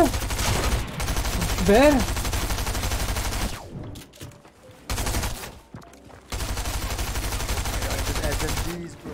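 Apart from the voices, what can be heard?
SMG gunfire in a video game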